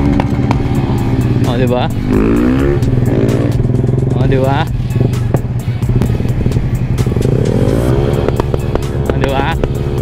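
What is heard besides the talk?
Yamaha Sniper 150 motorcycle exhaust backfiring after ECU unlock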